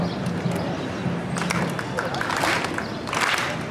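A youth group crowd at a summer retreat claps together in a dense, steady wash of hand claps, loud and close, with voices and cheering mixed in throughout.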